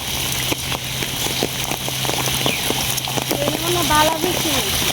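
Heavy downpour during a stormy flood, a dense steady hiss of rain on surfaces with scattered sharp drip and splash impacts, close and loud, with faint voices underneath.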